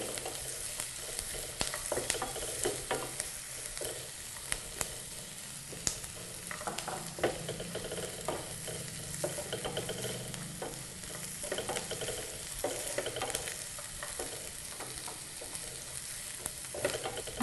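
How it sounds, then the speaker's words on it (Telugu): Green chilies and onion pieces frying in oil until light brown, with a steady sizzle broken by repeated scraping and stirring strokes of a spoon in the pan, close and clear with no talk. "పచ్చిమిర్చి ఉల్లిపాయ ముక్కలు బ్రౌన్ కలర్ వచ్చేంత వరకు లైట్ బ్రౌన్ కలర్ వచ్చేంత వరకు వీటిని వేయించాలండి"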